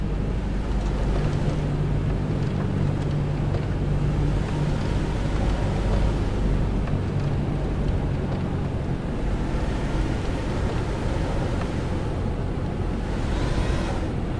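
A Cessna 172 engine from a flight simulator soundpack drones steadily at reduced throttle, a loud, even roar mixed with rushing wind noise and no pauses.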